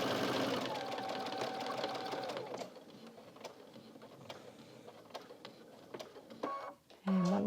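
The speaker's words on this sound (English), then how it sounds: "now I'm going to stitch down to level with that nick." A sewing machine stitches a scalloped or picket edge on a quilt, running steadily for a couple of seconds, then giving way to a few quiet, separate ticking stitches and small clicks.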